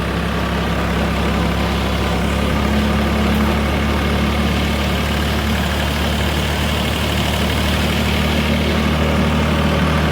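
A farm tractor engine idles with a steady, loud, low rumble and a constant mechanical drone, unchanging throughout and with no voices.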